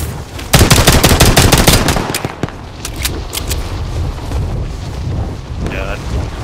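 Call of Duty: Modern Warfare gunfire, a loud rapid burst of automatic shots up front followed by scattered sharper single shots over a rushing, wind-like background.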